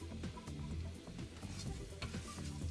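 Butter sizzling in a hot pan for an RV breakfast of eggs and turkey bacon, a soft steady crackle with faint clatter beneath, fairly quiet.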